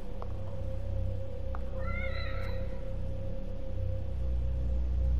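A cat in the horror game The Evil Within gives one drawn-out, wavering meow in the middle, over a steady low game ambience and a sustained tone.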